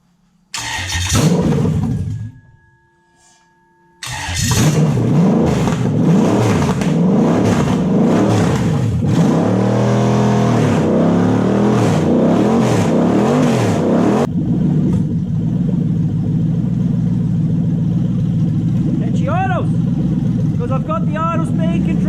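A Lexus LS400 UCF20 engine sits on a stand, running with only a basic fuel hookup. It cranks, catches and revs hard and loud, drops out briefly, then roars back with repeated revs before settling to a rougher idle, with voices now and then.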